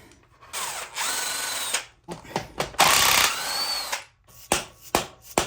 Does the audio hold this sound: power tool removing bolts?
yes